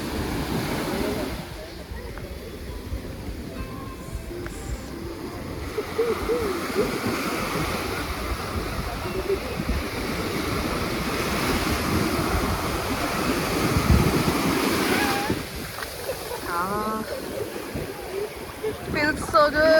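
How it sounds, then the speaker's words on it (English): Ocean surf at Eden Beach in Pondicherry, a continuous broad roar of breaking waves mixed with wind buffeting the microphone, steady and fairly loud throughout with a faint voice in the background. "So there's the Eden Beach."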